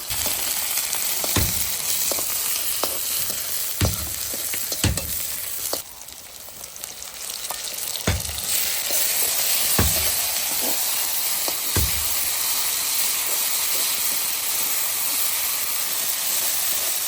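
Food sizzles and fries steadily in homemade mustard oil in a pan, a loud continuous hiss with occasional stirring knocks and scrapes, close and without talk.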